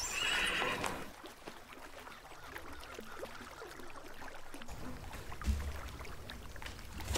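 Mules on a canal towpath beside a boat on New Jersey's Morris Canal, with a clear neigh or whinny near the start and soft hoof clip-clop over a quiet outdoor background.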